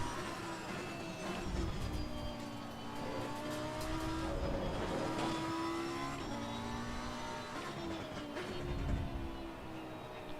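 A GT race car engine from Assetto Corsa Competizione at Kyalami drones and revs continuously, pitch rising and falling through gear changes, with tyre and mechanical noise and no talking, at a moderate steady level.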